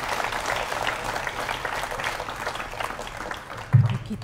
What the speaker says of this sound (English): A round of applause for Bachi Karkaria